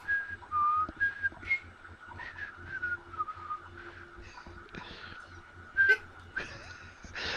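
Someone whistles a wavering tune on a board game talk show, the notes thin and broken up, with breathy laughter and background noise between phrases.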